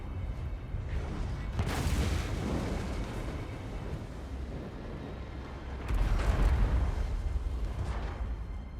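Mortar and artillery fire in Total War: Warhammer 2, with deep booming blasts rumbling under battle noise and two sharper, louder impacts a few seconds apart.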